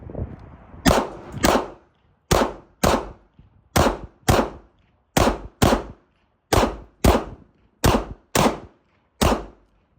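Smith & Wesson M&P 2.0 pistol shot repeatedly during a 1,000-round burndown, about fifteen sharp, loud reports spaced in quick pairs and short strings, each with a brief ringing tail, no talking.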